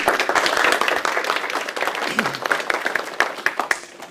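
A seminar audience breaks into sustained applause to welcome a guest speaker at a bioengineering talk, dense steady clapping that stays loud throughout and tapers slightly toward the end.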